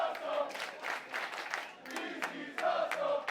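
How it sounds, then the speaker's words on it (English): A wrestling crowd at the Largo Venue in Rome cheers and shouts in bursts of appreciation, a lively, fairly distant roar rising and falling over a few seconds. "you can hear this crowd here in Rome showing their appreciation"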